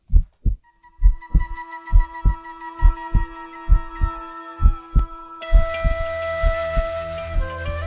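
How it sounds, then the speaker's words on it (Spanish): Steady, loud heartbeat sound effect, a regular double-thump pulse repeating alone, with a sustained tonal drone rising in under it toward the end. "Lo escucho, son los latidos del Amazonas, el corazón del planeta."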